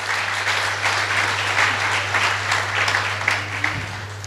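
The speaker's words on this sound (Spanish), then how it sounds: "Den un aplauso al Señor" A church congregation applauds in steady, dense clapping that holds loud and even throughout, with a low steady hum running beneath it.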